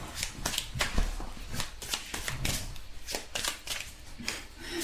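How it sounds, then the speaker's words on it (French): Tarot cards being shuffled by hand, a rapid run of crisp papery riffles and slaps repeating in quick bursts, close and clear with no talking. "Alors, on va tirer quelques cartes pour commencer."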